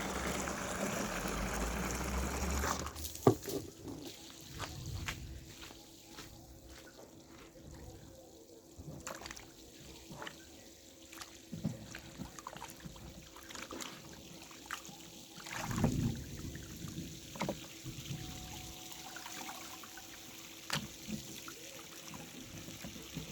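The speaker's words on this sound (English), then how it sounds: "Alright, wash them with the vinegar now." Pears and breadfruit are washed by hand in water with vinegar outdoors, with intermittent splashing and sloshing, soft drips and small knocks, faint and scattered through the stretch.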